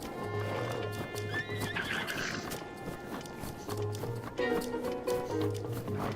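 Horses whinny and neigh loudly over rapid galloping hoofbeats in the video game The Legend of Zelda: Breath of the Wild, with a low, steady musical tone in the background.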